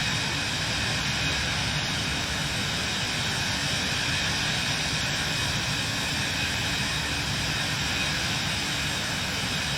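Cirrus Vision Jet SF50 engine in Microsoft Flight Simulator, a steady, loud, continuous jet roar and hiss heard from inside the aircraft, unchanging throughout.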